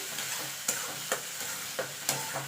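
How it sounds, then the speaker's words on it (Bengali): Mashed flat beans are stirred and fried in a pan, with a low sizzle under several sharp spatula scrapes and taps spaced roughly half a second apart, close by and alone. "এবার এটাকে ভালো করে টানিয়ে নিতে হবে, যতক্ষণ এর জলটা শুকিয়ে না যাচ্ছে ততক্ষণ"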